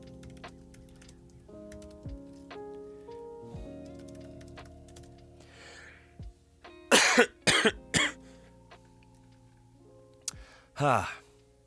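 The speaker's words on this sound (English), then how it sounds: "I can't shake this cough." A few sharp, harsh coughs in quick succession, close by, over faint background tones, followed by one more cough a moment later.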